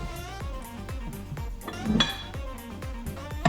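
A melted coconut macaron mixture being stirred in a bowl, a utensil knocking and scraping against the sides in a steady repeated rhythm, close and moderately loud, with a slightly sharper clink near the middle.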